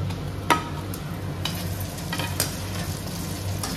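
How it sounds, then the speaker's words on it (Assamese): Steady sizzling of a ginger, garlic and chilli paste frying in a pan, with occasional sharp scrapes and stirring clatters, close and moderately loud, no voices. "এইখিনিও কেঁচা গোন্ধটো যোৱালৈকে ভাজি ল'ম।"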